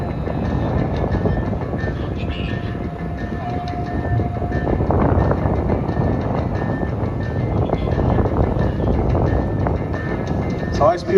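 A train passes near a racetrack in Fayetteville, Arkansas, a continuous loud rumble of rail cars with clattering and a brief tonal whine, heard under a crowd-filled outdoor setting.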